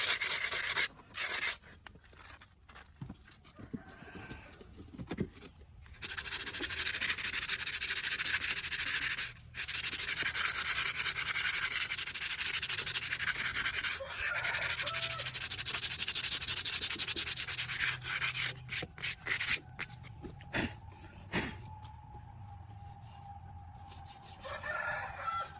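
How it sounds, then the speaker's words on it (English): Fine sandpaper rubbing over hardened sugar-and-cement: a continuous, close, gritty scraping hiss with short pauses, and a rooster crowing in the background. "Sand it using fine sandpaper to remove even the remaining hardened cement."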